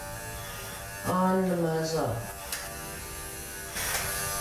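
Electric clippers with a 10 blade shaving the muzzle of a Portuguese water dog, a low steady hum running throughout while a person talks over it.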